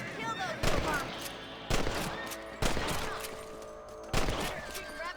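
Repeated gunshots in Red Dead Redemption, fired while hunting rabbits: four sharp, loud reports spaced about a second apart, each with a ringing tail, over quiet game ambience.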